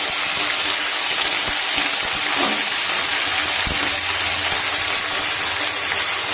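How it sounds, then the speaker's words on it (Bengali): Curry leaves spit and sizzle in hot oil freshly pressed out of a pan of cooking suji, a dense, steady broadband hiss running close and loud throughout with a few brief pops. "সরিয়ে যে তেলটা বেরোবে সেই তেলটার মধ্যে আমি এই কারি পাতাগুলো দিয়ে দিলাম।"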